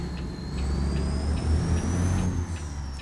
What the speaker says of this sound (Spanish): lo que suena este camión da miedo